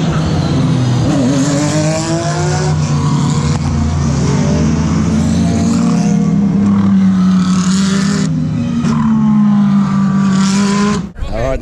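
Several race car engines drone loudly and steadily at low revs on the formation lap of the Bathurst 12 Hour, with rising and falling pitch as cars pass nearby, ending in a brief cutoff.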